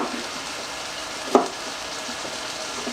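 Food sizzles steadily in a hot pan, a continuous crackling hiss close by, with one brief clink partway through.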